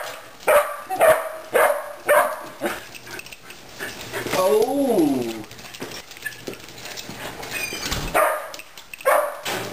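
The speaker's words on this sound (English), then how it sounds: "Hello, big dog." A big dog at home gives short, repeated barks and rising whimpers, close by and loud, with a drawn-out whining stretch in the middle while a person talks around it.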